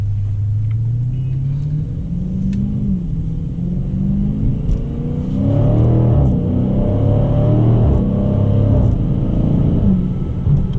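A 2020 Dodge Challenger 1320 accelerates hard, its engine note rising in pitch through the gears with a deep rumbling exhaust, heard steadily from inside the car with no talk.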